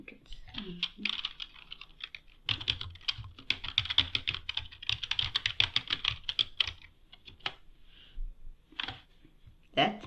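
Close, quiet typing on a computer keyboard during software setup, with bursts of fast clicking keystrokes broken by short pauses and a brief voice near the start and end.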